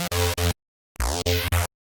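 Serum bass synth patch through a frequency shifter with the fine knob off plays short, loud, buzzy stabs, a pair, a gap of silence, then three more with a sweeping, warbling top.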